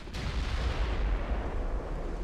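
A deep, rumbling naval blast from torpedoes striking a ship in Ultimate Admiral: Dreadnoughts: one sharp impact, then a long, heavy low roar that fills the whole moment without speech.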